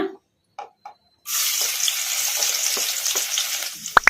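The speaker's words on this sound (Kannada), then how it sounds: "ಬೆಳ್ಳುಳ್ಳಿ ಹಸಿ ವಾಸನೆ ಹೋಗೋವರೆಗೂ ಫ್ರೈ ಮಾಡ್ಕೊಂಡ್ಬಿಡೋಣ" A few soft knocks precede chopped garlic dropping into hot oil in a kadai, which bursts into a sudden loud sizzle. The hiss carries on steadily with scattered crackles until a couple of sharp clinks at the end.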